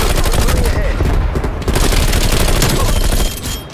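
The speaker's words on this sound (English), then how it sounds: "You can throw a grenade and shoot at the same time" Video game combat with an M79 grenade launcher, dense rapid gunfire in a loud continuous barrage with heavy booming blasts mixed in, easing slightly at the end.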